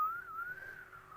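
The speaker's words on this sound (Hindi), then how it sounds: "मैं सीटी बजा रहा हूँ।" A man whistles a single thin, wavering tone that rises slightly and holds, faint and alone for about a second.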